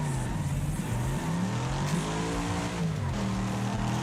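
Car engine revving in a racing video game, with a steady, loud droning whine that rises and falls continuously throughout, sounding close and unbroken, with no voices over it.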